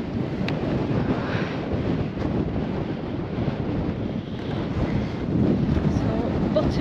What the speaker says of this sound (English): get out this wind.